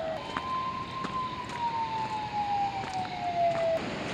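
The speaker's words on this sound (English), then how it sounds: "I got some loud sirens going off in the background" Loud wailing siren of an emergency vehicle in the background, one long sweeping tone that rises and slowly falls while standing near the water fishing for skipjack bait.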